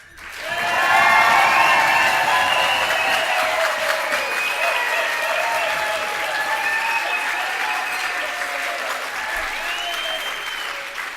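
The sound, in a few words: audience applauding and cheering at gala dinner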